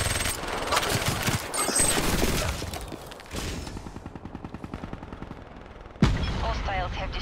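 M8A7 rifle with a suppressor in Call of Duty Black Ops 3, firing fast muffled repeated shots amid game combat noise, with a sharp loud impact near the end.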